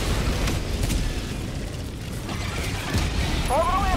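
Helldivers 2 gameplay explosion, a dense broadband rumbling blast that fills the moment loudly, with game noise and a faint voice underneath.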